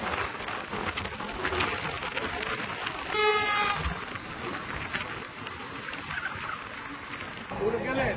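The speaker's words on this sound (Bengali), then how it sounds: "আমাদের ট্রেন এখন এসে পৌঁছালো বোলপুর শান্তিনিকেতন স্টেশনে" The Kanchenjunga Express from Silchar to Sealdah stands at Bolpur Shantiniketan station, a continuous rumble of train and platform noise with a brief whistle or horn burst around the middle and people talking throughout.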